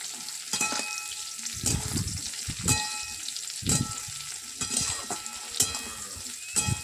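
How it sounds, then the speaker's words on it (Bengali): Small puti fish hit hot oil in a village kitchen, giving a loud close sizzle that swells in repeated bursts of spitting and crackling, with no talk. "পুঁটি মাছ ভাজাটাকে তেলে ছেড়ে দেওয়া হলো"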